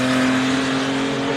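Porsche 914 racing up a hill climb course, its engine droning loud and steady at high revs throughout, close to the listener.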